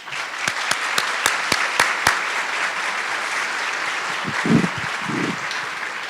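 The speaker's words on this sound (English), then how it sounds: "just give a moment of applause, please." A crowd applauding steadily, with a few sharp individual claps standing out early on and brief murmurs near the end.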